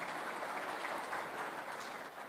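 An audience at the Amar Ujala Uttarakhand Samwad 2025 event applauds together with a dense, even wash of clapping, heard faintly from a distance, without a break.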